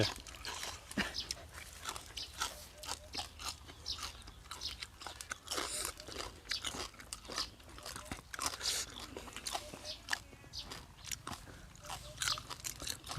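Crispy skin of a whole roast suckling pig crunching loudly and repeatedly as it is bitten and chewed close to the microphone, a dense run of sharp cracks throughout with no talk over it.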